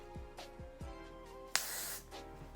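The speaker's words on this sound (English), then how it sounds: "now I do the freeze spray over my hairline" A short hiss of freeze hair spray sprayed over a hairline, lasting about half a second, preceded by faint handling sounds, close and fairly quiet.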